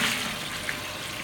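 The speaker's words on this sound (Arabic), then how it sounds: "راح احط لها مي وارجع لكم" Water poured from a steady stream into a pot of French onion soup on the stove, a continuous close splashing and hissing rush with no talk.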